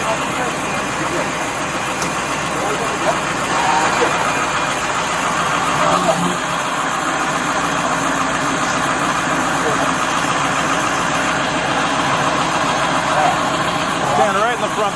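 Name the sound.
pickup truck engine left running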